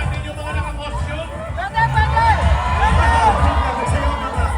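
A large street crowd at the Pasig Day civic parade in the Philippines lifts into a loud, sustained roar of cheering and shouting partway through, after a steadier background hubbub of many voices.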